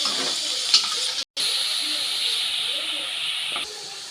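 Tomatoes and green chilies sizzle in a hot pan, a steady close hiss that drops out briefly, then continues evenly.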